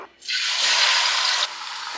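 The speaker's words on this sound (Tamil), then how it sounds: "நம்ம மிக்ஸ் பண்ணி வச்சுருக்க சிக்கன் சேர்த்துடலாம்" Marinated chicken hits hot oil in a pot seasoned with bay leaves and cardamom for black chicken biryani, giving a loud, steady broadband sizzle that swells and then settles into a continuous hiss.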